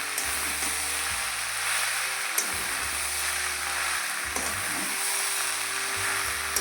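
Mustard paste with vegetables for Malabar spinach chochori fries in a pan, a steady close sizzle with a few sharp spatula knocks as it is stirred, alone without talk.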